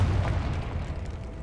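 Confringo explosion spell in Hogwarts Legacy, heard as a brief, low, rumbling boom that stays heavy and steady for a moment, with no voices.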